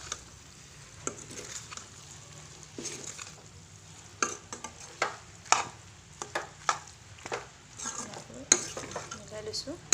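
Vegetable macaroni stirred in a pan, a utensil scraping and clinking in irregular bursts over a faint, steady sizzle, close and fairly quiet, with no talk.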